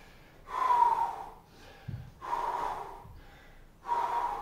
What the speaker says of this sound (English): Slow down the breathing.